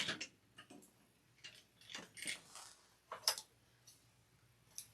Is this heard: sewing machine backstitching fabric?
yes